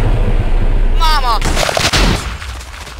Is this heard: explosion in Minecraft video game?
yes